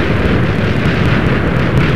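A giant TNT explosion in the Minecraft video game roars as a continuous, dense rumble, loud and sustained throughout, with crackling bursts layered over a deep low rumble.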